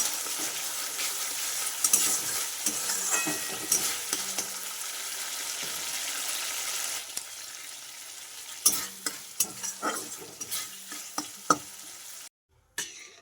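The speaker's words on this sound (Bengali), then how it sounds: "মশলাটা ভেজে নিচ্ছি।" Spice masala of tomato with coriander and cumin powder frying in a pan, a steady close sizzle with stirring scrapes, thinning later into intermittent spatters and utensil clicks before a brief silence.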